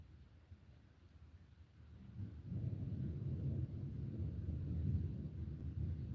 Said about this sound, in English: See that thunder rolling?